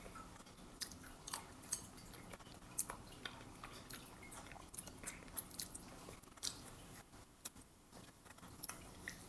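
Someone chews a Banquet country fried chicken mega bowl, soft moist bites with occasional crunchy clicks, close and quiet with no talking.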